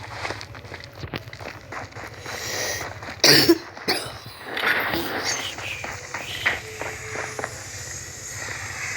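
A single loud, close cough breaks through during a shooter game session, with soft shuffling footstep-like game sounds and a low steady hum around it.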